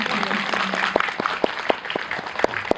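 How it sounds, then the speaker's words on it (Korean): Audience members at a film screening Q&A clap in a scattered, moderate round of applause, individual claps distinct and irregular. "네, 박수 부탁드리겠습니다."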